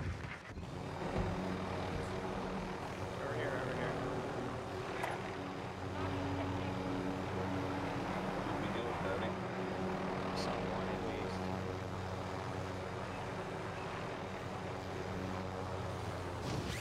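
A helicopter flies in a video game, its rotor and engine drone steady and fairly loud throughout, with a person talking over it at times.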